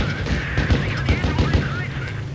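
Rapid cannon fire in the World of Tanks Blitz tank game, played in a Panzer II J, comes as a quick series of punchy bursts in a loose rhythm while someone talks over it.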